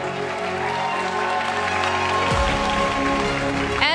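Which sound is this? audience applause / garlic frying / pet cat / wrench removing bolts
audience applause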